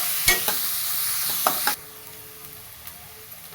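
Chopped onion with salt and asafoetida is sautéed in a pan: a bright sizzle punctuated by several sharp spoon scrapes, then the frying drops to a quieter simmer.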